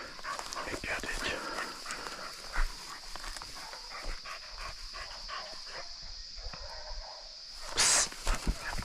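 Hunting dogs bark while chasing a wild pig through hilly country, sharp barks spread across the clip at some distance, with someone talking over them and a louder burst near the end.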